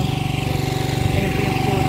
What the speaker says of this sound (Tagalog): Ayan po yung motor dumadating ngayon.